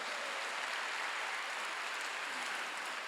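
A church congregation clapping during a Wednesday worship service, a continuous even roar of many hands at moderate level, no voices standing out above it.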